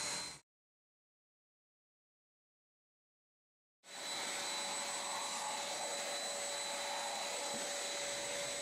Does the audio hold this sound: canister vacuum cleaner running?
yes